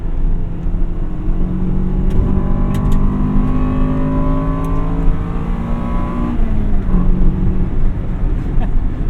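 A 1998 Acura Integra Type R engine rises in pitch through the gears, from a loud sustained rev to a shift, with a rising whine and occasional clicks, heard from inside the car.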